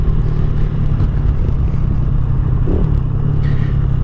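KP mini 150 mini bike engine accelerating, a loud, steady low engine drone with road rumble, close and continuous throughout, with a faint clatter near the end.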